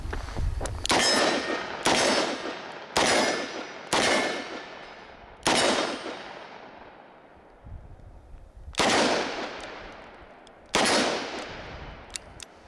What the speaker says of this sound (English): Pulled one shot.